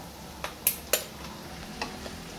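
Three eggs go into a pan of frying onions, heard as a few sharp taps and cracks against the pan over a soft, low sizzle, with no talking.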